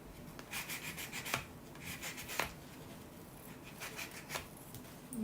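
Soft, quiet rubbing strokes of a sanding sponge against small metal jewelry, repeated in an uneven rhythm, close and faint.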